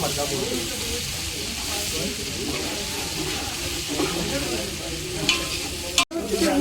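Red chilli masala frying in a pan for Kolhapuri chicken makes a dense, continuous sizzle and hiss, with stirring scrapes and a brief clatter near the end.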